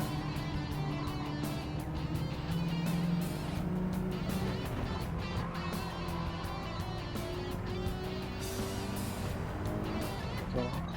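Toyota race car engine in the Gran Turismo 7 racing game, a continuous drone of engine tone holding under a dense wash of track noise at moderate level, with no clear passes or gear changes standing out.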